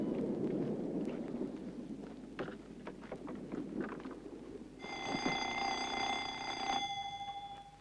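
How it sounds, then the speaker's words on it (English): A buzzer in a crime film sounds partway through as a steady, ringing electronic tone lasting about two seconds, over low background rumble. "Hey, Fred, the buzzer."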